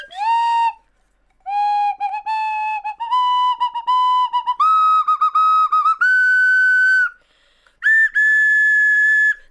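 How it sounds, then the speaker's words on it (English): A slide whistle plays a series of sliding, wavering tones in short phrases, rising step by step toward higher pitches, loud and close with brief pauses between runs and a final short burst after a gap. "I wonder if I can play hot cross buns on my slide whistle."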